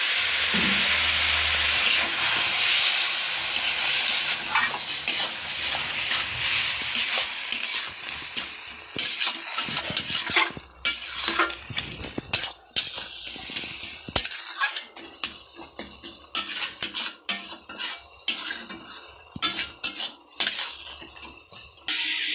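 Chicken masala with a splash of water sizzles loudly in a pan, then gives way to repeated close scraping and clinking as a spoon stirs it, with the sizzle fading into bursts between strokes.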